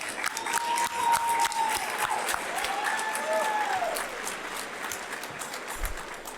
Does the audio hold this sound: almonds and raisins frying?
no